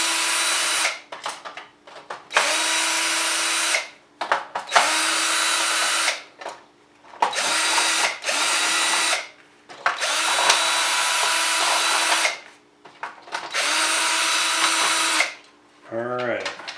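A power drill backs screws out of a Nerf Magstrike blaster in repeated bursts of whirring, each pulse ramping up then stopping, with short pauses between screws and close, loud motor tone.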